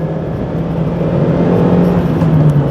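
A 1998 Toyota Starlet Sportif five-door with a 1.3-litre engine revs hard while climbing uphill, its loud, strained drone held steady and close for a few seconds with no talk over it.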